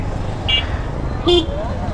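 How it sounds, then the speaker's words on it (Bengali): Short toots from the horn of a Honda Dio scooter out on a road, two brief thin beeps heard under someone talking, with traffic noise around. "এটার হর্নের আওয়াজটা খুবই কম। এটা হচ্ছে গিয়ে হিরোর একটা স্কুটি, আচ্ছা সেটা পরে বলি, হিরো না সরি হোন্ডা ডিও।"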